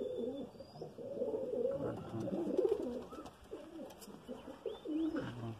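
Domestic pigeons coo steadily in a home pigeon loft, their soft, throaty calls overlapping near and clear across the whole stretch, with faint chirps above.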